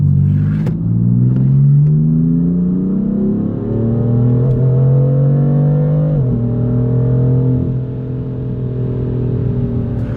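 A BMW E36 with a Guerrilla exhaust and its valve open accelerates through the gears, a loud, deep engine note rising in pitch, dropping briefly at a shift and climbing again.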